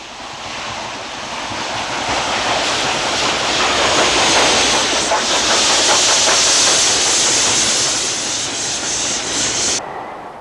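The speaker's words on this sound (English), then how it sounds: "Here we see an atypical example of a Black Five as she cruises around the bend with Longdale Fell in the background" An LMS Stanier Black Five 4-6-0 steam locomotive fitted with a skirt plough rounds a bend near Greyrig below Longdale Fell. Its steady roaring exhaust and hiss swell to a loud peak midway and hold there, with no voices.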